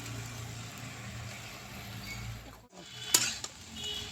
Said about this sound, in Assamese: কৰ্দৈ টেঙা খান্দি দি পিনে অলপ সময় ভাজি ল'ম।